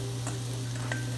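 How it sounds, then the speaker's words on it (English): Chopped onion hits hot oil in a pan for Tex-Mex white chicken enchiladas, a soft, even sizzle with a couple of faint ticks over a steady low hum, quiet and brief, with no one speaking. "In our pan we have some oil, and we're going to add our onion"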